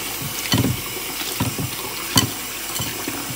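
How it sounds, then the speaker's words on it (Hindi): Sprouted wheat grains being washed in water, with splashing and sloshing in irregular bursts, close to the listener and fairly loud, without any talk. "अब हमने इसको फिर से वॉश कर लेना है।"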